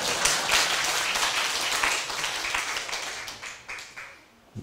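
A seminar audience at a Taiwan civil government session claps in a fairly close round of applause that thins out into a few scattered claps toward the end.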